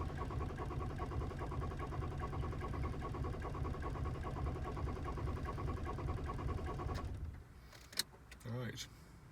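Toyota RAV4 D4D diesel engine cranking for a hot start, with steady, loud starter churning for about seven seconds before it cuts off, followed by clicks and a brief mechanical whir.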